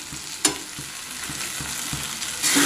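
Semolina with cardamom powder is stirred in a hot pan as a sweet filling, rhythmic spoon scrapes repeating about every half second over a soft frying hiss, a louder sizzle surge at the end.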